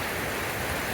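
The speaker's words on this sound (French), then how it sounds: "il pleut des cordes" Heavy monsoon rain pours in Khao Lak, Thailand, a dense, even hiss with no breaks or talk over one short second.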